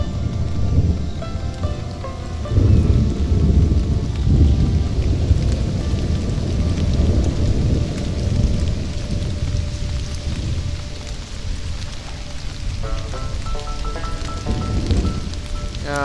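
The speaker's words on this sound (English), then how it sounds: "Okay, it's just rain." Steady rain falling in a video game, a continuous hiss of drops with no voices, fairly loud and even throughout.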